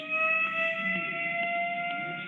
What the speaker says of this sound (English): it's a tornado siren, we'll figure that out.